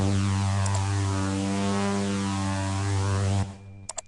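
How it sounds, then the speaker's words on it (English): A buzzy synth tone made of two stacked saw waves, with an LFO on the pitch, holds steady with a wavering pitch, then cuts off abruptly near the end, leaving brief faint clicks. "it's just 2 saw waves, and it's got an LFO on the pitch, which you can hear"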